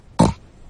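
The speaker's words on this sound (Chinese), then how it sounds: "乔治果汁喝得太快，结果现在开始打嗝了。" A young cartoon pig hiccups once after gulping juice too quickly at breakfast, a single short, close vocal burst standing alone against quiet.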